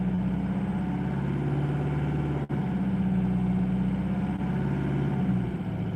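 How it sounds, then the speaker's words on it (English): A damaged car engine runs steadily at about 1600 to 1800 RPM, a close, droning hum with a strong low tone that wavers and dips slightly, heard alone without talk. "So in the 1600 to 1800 RPM range, you can sort of hear it changing. That's because of the damage in the motor."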